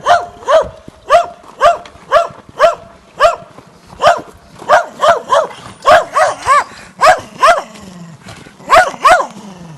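A watchman's dog at a freezing winter campsite in Aladağlar, Bolu, barks loudly and close by in a long, steady series of sharp barks.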